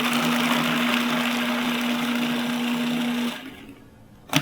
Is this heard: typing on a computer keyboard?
no